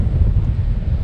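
Strong wind gusts across an exposed rocky hilltop, buffeting the microphone in a loud, continuous low roar with uneven surges and no voices.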